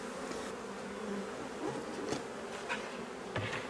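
Honey bees buzzing around spring beehives in the sun, a dense, steady drone of many insects nearby with occasional closer passes, no voices.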